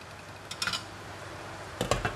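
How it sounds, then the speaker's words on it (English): Spoon stirring luffa chicken soup in a metal pot, two short bursts of scraping clinks separated by a quiet pause, close and fairly soft. "Give it a stir"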